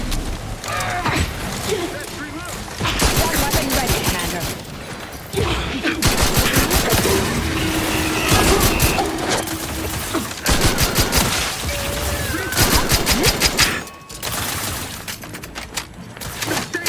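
Gunfire in the video game Outer Worlds 2, loud rapid bursts of automatic shots alternating with short pauses, mixed with mechanical clanks and effects.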